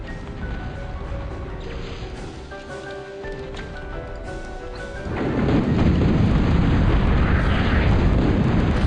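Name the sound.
advanced torpedo explosion hitting ship, Total Annihilation video game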